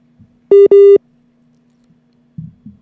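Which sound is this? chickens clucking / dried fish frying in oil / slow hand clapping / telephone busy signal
telephone busy signal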